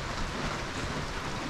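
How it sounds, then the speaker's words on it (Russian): Heavy rain in the taiga pours down steadily, a dense, continuous hiss of drops with a low rumble underneath, no voices. "дождь сильный такой"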